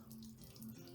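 Water pours steadily through the sunroof drain of a VW Super Beetle and runs out underneath, a close, continuous trickling splash lasting about a second.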